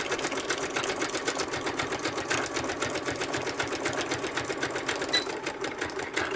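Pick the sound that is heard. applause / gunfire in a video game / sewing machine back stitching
sewing machine back stitching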